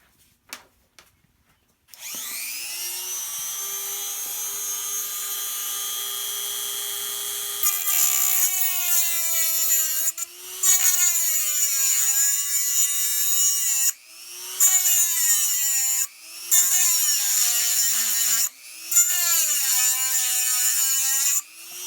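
A loud power tool grinds away at a screw head, whining steadily for several seconds before settling into a series of high-pitched cutting bursts with brief pauses between them.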